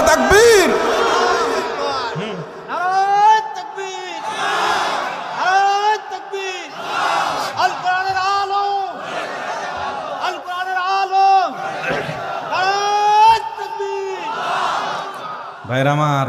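A large crowd at an Islamic sermon on the Prophet's Miraj shouts a unison chant in answer to a takbir call. Loud, massed voices rise in repeated bursts, alternating with a preacher's amplified voice.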